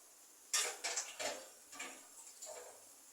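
Shrimp sautéing in a pan with a gourd curry being prepared, heard as a series of close metal spatula scrapes and clinks against the pan, irregular and moderately loud, with no talking.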